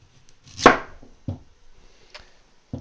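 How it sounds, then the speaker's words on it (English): A knife cuts the bottoms off turnips on a board with a few distinct chops: one strong thud, then several lighter, spaced strikes, close and crisp with no voices. "So for these, I'm gonna chop the bottoms off."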